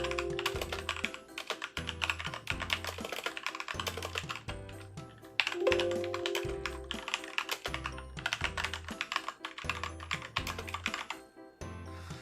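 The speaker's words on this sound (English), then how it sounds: "So I love the sound of a mechanical keyboard." Fast, continuous typing on a Hexgears Impulse mechanical gaming keyboard, close and crisp, with rapid clacks and a steady rhythm of thocky keystrokes and a few louder bottomed-out hits.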